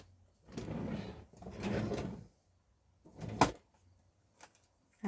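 A drawer holding baker's twine slides open with a wooden rumble, then closes again, followed by a sharp knock and a few faint handling clicks in a quiet craft room.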